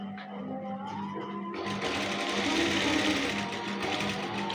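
A sewing machine runs steadily as it stitches a waistcoat lining, its motor starting with a low hum and rising into a continuous, close whirring rattle with no talking.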